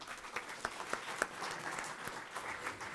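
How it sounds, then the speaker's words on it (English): An audience at a talk on India-Pakistan relations in Delhi claps in faint, distant applause, with a few sharper individual claps standing out from the steady patter. "may I request you all to put your hands together to give a huge round of applause to Ambassador Maharaj Kasargotra"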